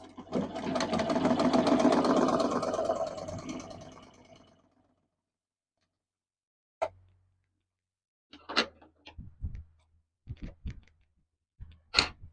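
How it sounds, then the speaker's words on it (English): A Butterfly sewing machine stitching a piece of fabric: a steady mechanical whir for several seconds that winds down, then silence and a few scattered clicks and knocks as the fabric is handled. "Let's stitch something and see if our threading was done correctly."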